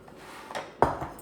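A lid goes onto a pot of black bean soup with a soft scrape and then a sharper metallic clink, a couple of brief close knocks in a quiet kitchen.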